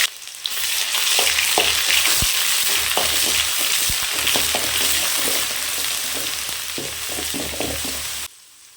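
Mustard seeds, urad dal, curry leaves and ginger-garlic paste fry in hot oil in a kadai for mutton varuval, a dense close sizzle with scattered crackles and pops that cuts off abruptly at the end; nobody speaks.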